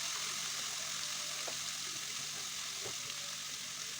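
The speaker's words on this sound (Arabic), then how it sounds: "واشوح الثوم لغاية لما ادبله كده في الزيت" Garlic frying in oil in a pan gives a steady, faint hiss and sizzle, with a few soft clinks of stirring.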